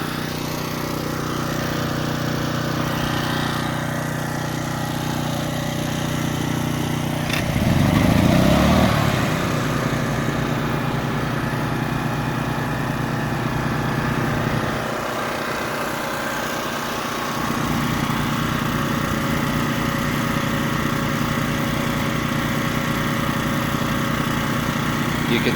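A Honda EX800 generator and a Kohler engine run together, a steady droning idle hum with a brief louder surge as the Honda starts up, then both continue evenly with no talk.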